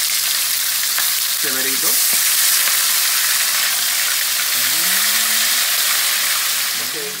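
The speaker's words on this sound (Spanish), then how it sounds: "ya ponemos todo el pollo juntico ahí en chévere, se comienza a sofreír" Chicken pieces frying in hot oil over sugar cooked until caramelized, for pollo guisado; a steady close sizzle runs throughout while people talk briefly over it.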